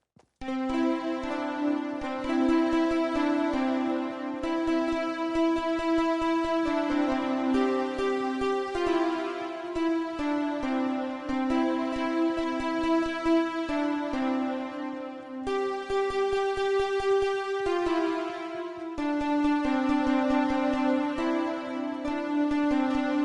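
A bright, blocky synthesized melody in a retro video-game style, played on Fortnite music blocks, plays steadily over a sustained bass line, bouncing through a looping chorus phrase of a song.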